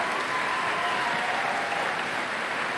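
A large outdoor concert audience at the Sidney Myer Music Bowl gives a big round of applause for the orchestra's clarinets, a continuous, even wash of clapping that holds at full strength throughout.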